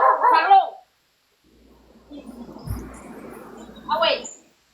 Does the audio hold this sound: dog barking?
yes